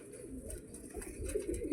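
A fancy crested pigeon coos in low, soft, rolling phrases, repeated a few times close by and fairly quiet, with no talk over it.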